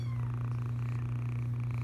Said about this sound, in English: Oh, good purr.